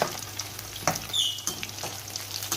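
Popcorn chicken pieces frying in hot oil over a low flame, a steady close sizzle with crackling pops and bubbling, no voices.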